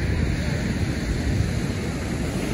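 Rough ocean surf at Baker Beach in San Francisco, a continuous broadband roar of breaking waves mixed with wind buffeting the microphone, steady and loud throughout with no clear individual wave crashes.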